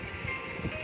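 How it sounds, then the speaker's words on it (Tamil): A train rumbles past in a brief burst in the video game Baby in Yellow, low steady rolling noise with a faint hiss, no voices. "ட்ரெயின் வந்துக்கிட்டே இருக்கு"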